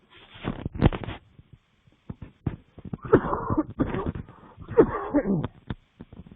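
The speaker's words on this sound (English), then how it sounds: "This little cough's getting advantage of me." Several short, harsh coughs and throat-clearing bursts, close and fairly loud, coming in clusters with brief pauses between them.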